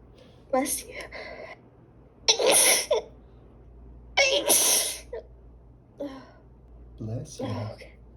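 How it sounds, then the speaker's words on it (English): Two forceful human sneezes burst out close by, a couple of seconds apart, with bits of nearby talking and breathy voice sounds before and after them. "I'm gonna sneeze."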